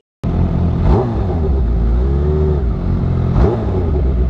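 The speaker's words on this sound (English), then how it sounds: "Dude, the deepness of this bike is nuts." Kawasaki Ninja H2 motorcycle fitted with a new exhaust, revving loudly and close with a deep, steady engine drone and two rising throttle blips, no voices.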